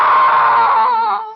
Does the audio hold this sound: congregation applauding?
no